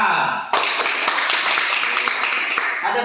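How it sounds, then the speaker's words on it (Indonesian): A classroom of elementary schoolchildren bursts into a dense, close round of hand clapping that starts abruptly and holds steady for a few seconds before cutting off, with voices just before and after. "Mantap, tepuk tangan."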